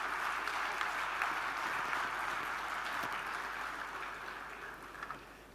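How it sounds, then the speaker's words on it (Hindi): A large audience at the grand inauguration of the Rajasthan Architecture Festival 2022 applauds steadily to welcome a speaker, with a dense clapping roar that slowly fades toward the end. "जोरदार तालियों से please help me welcome none other than Shri Ashok Gehlot ji"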